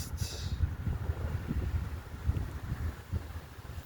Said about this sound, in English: It's also really windy right now.